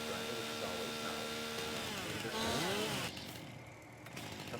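A chainsaw whines steadily while cutting down a tree in Farming Simulator 19, its pitch rising and falling as it bites, then easing off near the end.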